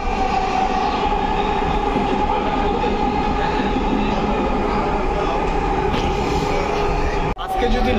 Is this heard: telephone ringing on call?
no